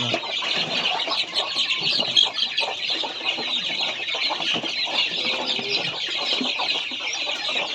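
A mother hen with newly hatched chicks, giving a dense, continuous chorus of high chirping peeps and soft clucks, close and steady without a break.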